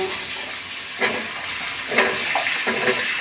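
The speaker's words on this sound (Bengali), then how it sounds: "এখন কেটে রাখা আলু দিয়ে দিচ্ছি আলুগুলো লাল লাল করে আমি ভেজে নেব" Cut potatoes frying in a pan, a steady sizzle with a few louder bursts of crackle and spatter as pieces settle into the hot oil, close and continuous.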